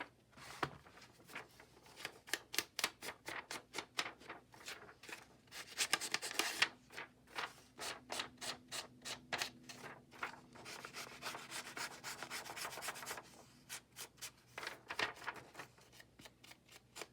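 Ink applied to the edges of paper for a file folder lap book journal, heard as steady, close, rhythmic rubbing and dabbing strokes that continue in quick runs with short pauses.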